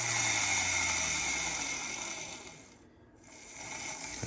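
An old Lima FP45 model locomotive runs with its wheels spinning, giving a continuous buzzing mechanical whir that briefly dips and then swells again.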